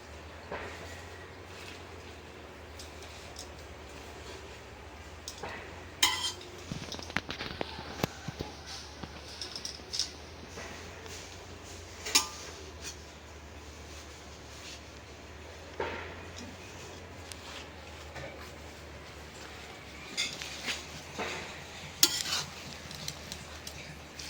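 Bottle gourd stir-fry is stirred and mixed in a pan, a quiet low sizzle broken by scattered scrapes and knocks of a spoon against the pan, some of them sharp and clustered, heard close with no talking.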